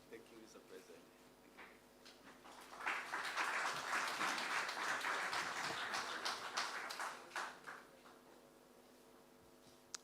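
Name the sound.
audience applause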